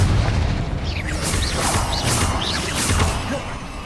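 A Bombarda spell explosion in the video game Hogwarts Legacy: loud, continuous booming and crashing blasts with whooshing sweeps layered over a heavy low rumble, lasting several seconds.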